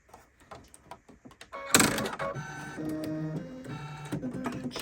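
A sewing machine quilting with glide thread runs steadily for about three seconds after a few light taps and handling clicks, its motor hum and needle rhythm close and continuous.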